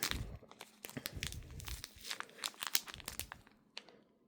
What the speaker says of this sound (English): Let me open one of these and just kind of check out what the scent is like.